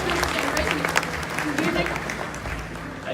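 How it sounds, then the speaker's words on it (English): Audience applause for volunteers at a bird show, a crowd clapping under a presenter's amplified voice as talking continues over it. "Round of applause for Karen and Scott, everyone."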